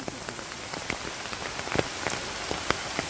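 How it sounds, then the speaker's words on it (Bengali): Steady rain pattering down in a Bangladeshi village, a dense even hiss with scattered sharper drops striking nearby surfaces, continuous and moderately loud with no voices. "কি সুন্দর বৃষ্টি"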